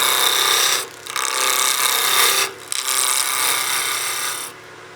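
A skew chisel peel cut rounds a spinning wood blank on a lathe, a steady close rasping scrape broken by two brief pauses as the tool lifts away, then continuing until the cut trails off.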